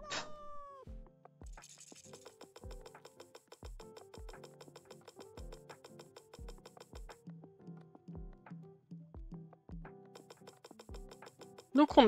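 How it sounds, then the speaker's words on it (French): Repeated cat meows in a Quilts & Cats of Calico video game, short cries spaced every second or so over a quiet backdrop, with a brief louder sound at the end. "Je crois que j'ai entendu un miaou."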